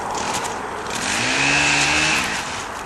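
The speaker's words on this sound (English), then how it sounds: "since the chainsaws are rolling today, I might just walk this young man out" Chainsaws run nearby during a horse-handling session, a steady buzzing engine drone that swells into a louder, higher revving whine midway before easing back, with no voices.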